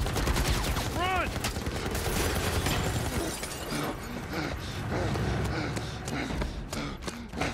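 Gunfire from The Last of Us Part I, with dense, continuous bursts of shots and impacts that fill the whole stretch. They sound loud and close, with game score and effects mixed in.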